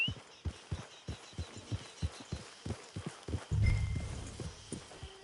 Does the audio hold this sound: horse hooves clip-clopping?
yes